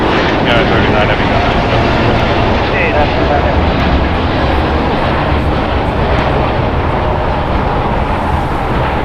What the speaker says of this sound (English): United Airlines Flight 39 going to Tokyo Haneda, Boeing 787-10 Dreamliner, 3 years old.